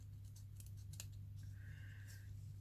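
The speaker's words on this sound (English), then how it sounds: "let's cut a piece of this off" A few sharp, brief snips of scissors cutting through a piece of maroon ribbon, quiet and close, set against a steady low hum.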